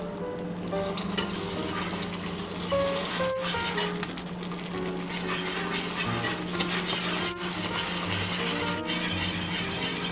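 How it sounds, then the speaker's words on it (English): Chunks of butter are stirred into hot caramel that has been taken off the heat. A steady close sizzle and bubbling runs throughout, with light scraping from the stirring and no talking. "Cut off the heat, start to stir it, and now add your butter very slowly in chunks."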